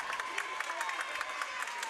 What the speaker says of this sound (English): Monta Vista fans doing their best to cheer on their team